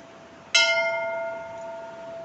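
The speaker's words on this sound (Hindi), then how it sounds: "घंटी बजा रहा है," A single temple bell at the Akala Devi temple in Pokhara, Nepal, is struck once, giving a clear metallic clang that rings on with a long, slowly fading shimmer over steady outdoor background noise.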